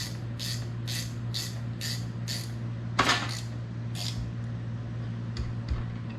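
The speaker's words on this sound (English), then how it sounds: "And then just take your ratchet or your wrench or whatever you got." A ratchet snugging up brake hardware on a 2004 SRT-4, a series of short, evenly spaced metallic clicks up close, followed by a sharper knock and a few scattered clicks.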